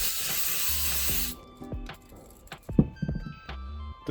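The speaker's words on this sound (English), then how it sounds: "going to spray some carburetor cleaner through the fuel" A loud, continuous hiss of carburetor cleaner sprayed close up into a generator's fuel inlet stops after about a second, followed by scattered light clicks and knocks.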